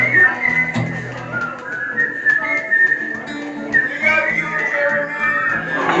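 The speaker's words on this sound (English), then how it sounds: "You got my shitty whistling?" A person whistles a tune, a wavering, slightly unsteady melody held in sustained notes, close and fairly loud with no other sounds.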